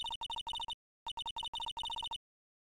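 A telephone in the video game Ace Attorney gives off electronic beeps in quick clustered bursts, falls silent briefly, then resumes with more rapid bursts before stopping.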